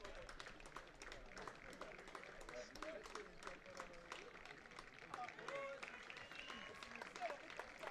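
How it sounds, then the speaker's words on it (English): Spectators at a boys' hockey tournament clap steadily as an injured player leaves the field, a dense patter of applause running the whole time beneath a talking voice. "the crowd as well, clapping him off"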